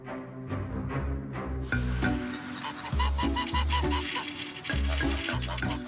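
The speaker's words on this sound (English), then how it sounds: "Flocks of geese were to be found in every village." Geese honk repeatedly in a rhythmic series of loud, close calls alongside other fowl, set in a medieval village scene.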